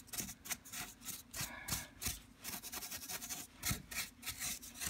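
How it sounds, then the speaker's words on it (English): Rhythmic rasping strokes of sandpaper rubbing against a carved cherub concrete mold, close and fairly quiet, repeating in uneven bursts. "Some more sanding."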